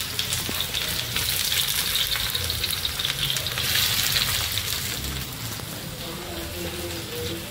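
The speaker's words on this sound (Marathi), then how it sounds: "थर लावायला फ्राय करायला लागतात ना कांदे" Sliced onions fry for a prawn biryani, a loud steady sizzle of hot oil hissing and crackling close by, with faint talk underneath.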